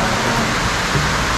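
Steady rain pours down around the cottages of a resort in San Marcelino, Zambales, a loud, dense, unbroken hiss close by with no voices heard.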